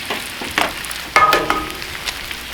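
Eggs start frying on a Cuisinart 360 griddle, a few soft taps and cracks followed by a sudden burst of sizzling that fades into a gentle close hiss.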